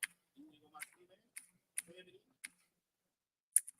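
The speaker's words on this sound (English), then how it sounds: "My keyboard doesn't want to work" A computer keyboard clicks in a sparse, uneven run of sharp, crisp taps with short gaps between them, close and fairly quiet against a silent background.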